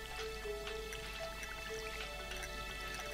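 Watering crops with a watering can in Stardew Valley gives a few gentle, quiet drips and patters, set against a constant bed of game music.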